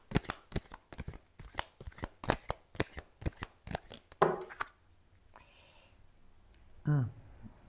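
Tarot cards are shuffled close by in quick, rhythmic riffles for about four seconds, followed by quiet breathing and a soft card rustle.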